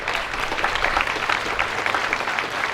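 A crowd applauds at an outdoor 9/11 remembrance ceremony, a continuous, fairly loud round of clapping from many people with no talking over it.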